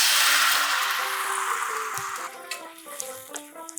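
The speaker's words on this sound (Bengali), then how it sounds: "আর এই সেদ্ধ ডালটা এবার এর মধ্যে ঢেলে দিচ্ছি।" Boiled biuli dal poured into a pan of sizzling spices with turmeric over a medium-low flame gives a loud, hissing sizzle that fades over a few seconds, with soft stirring clinks and gentle background music.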